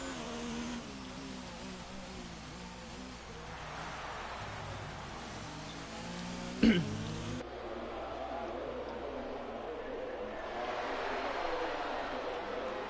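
Race cars lap a dry track in the F1 2019 video game, a steady whirring engine drone with a passing rev near the middle, under ongoing commentary.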